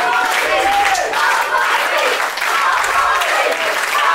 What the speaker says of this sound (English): The crowd firmly behind Rees, chanting his name.